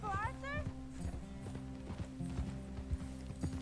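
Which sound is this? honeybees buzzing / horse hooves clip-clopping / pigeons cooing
horse hooves clip-clopping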